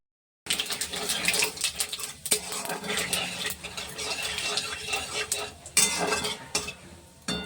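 Whole cumin seeds and two bay leaves crackle in hot oil in a pan, a busy close sizzle with metallic spoon and pan clinks throughout after a short silent start.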